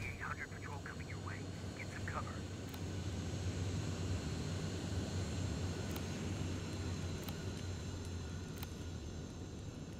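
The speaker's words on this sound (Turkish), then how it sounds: "Uçak sesi duydum." An aircraft engine in a post-apocalyptic Terminator shooter game drones steadily in the distance, a constant airborne roar, with a brief voice at the start.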